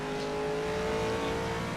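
Friction Racing car in a sim racing game at Estoril, its engine a loud, steady high-pitched harmonic drone held at speed throughout, with no talk over it.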